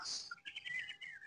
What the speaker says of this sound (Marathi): पक्ष्यांचा किलबिलाट झालाय हे पाऊस बघून.